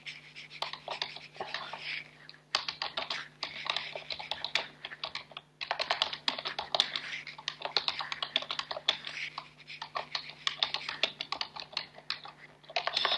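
Rapid typing on a computer keyboard, dense clicking keystrokes in quick bursts with brief pauses, close and fairly quiet over a faint steady hum.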